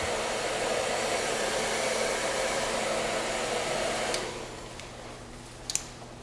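A hair dryer blowing loud and steady while hair is blow-dried in a salon, a continuous close whoosh that drops away after about four seconds, followed by a couple of faint clicks.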